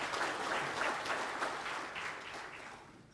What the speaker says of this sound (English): One more round of applause for R&R Fireworks and Bases.